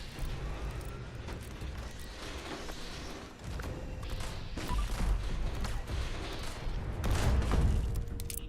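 Repeated grenade blasts in Fallout 76 go off one after another over a busy game soundscape, several booming bursts at irregular intervals, the loudest toward the end.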